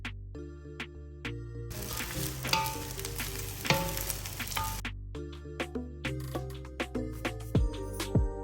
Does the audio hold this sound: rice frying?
yes